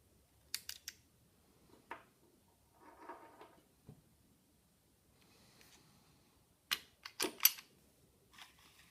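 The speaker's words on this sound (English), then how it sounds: "Lock the slide back with the safety lever, then push the pin out from right to left." An Arcus 98 DA Hi Power pistol is taken apart: the slide is locked back and a pin pushed out. Sparse, quiet metallic clicks, snaps and brief scraping sounds come at irregular intervals, close by, with no talking.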